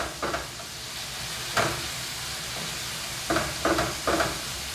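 Ground meat browning in a pan for a home-cooked bachelor recipe, giving a steady sizzling hiss with a few louder bursts of stirring and scraping as the meat is moved around, with no talking.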